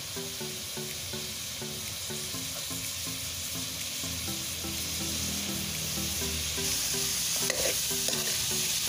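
Shrimp cooking in a little oil for halabos, a steady close sizzle and frying hiss with some stirring and utensil clinks throughout, no talk.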